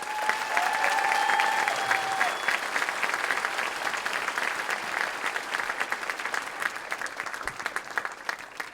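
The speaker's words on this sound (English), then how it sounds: "Everyone give him a round of applause." A crowd at a team retreat's opening session applauds an award presentation with sustained, dense clapping. A brief whistle rises near the start, and the applause gradually thins out.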